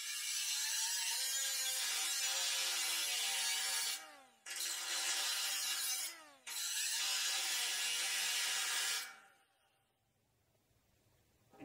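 Power cutting tool with a wheel on its arbor cutting through a trailer fender, a loud, continuous grinding screech in three long bursts separated by brief pauses, then stopping.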